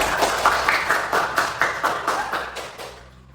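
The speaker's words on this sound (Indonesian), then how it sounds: "Kasih tepuk tangan untuk temannya." Schoolchildren in a classroom clap together for a classmate, a rhythmic, unison beat of roughly a dozen claps that fades out toward the end, close and clear without voices.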